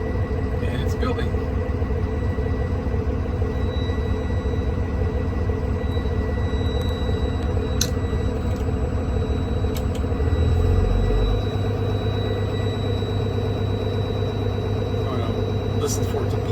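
A bus engine idles loudly and steadily while its air system builds pressure, a deep continuous rumble with a slight shift in the low drone partway through and a few faint clicks on top.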